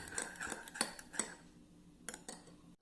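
A spoon mixes stir-fry sauce, sweet chili sauce and light soy sauce in a bowl, giving a few quiet, close clinks and scrapes that stop after about two and a half seconds.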